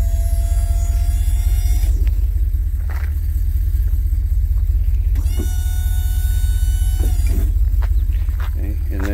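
Dhollandia rear liftgate, 3,300 lb rated, on a 2024 Ford F-650 with a 24-foot Morgan box body, leveling as it raises: a steady low electric-hydraulic motor hum runs throughout, with a few brief mechanical clunks over it.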